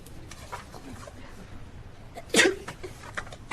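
A single short sneeze bursts out in a quiet classroom, standing out against faint background murmur.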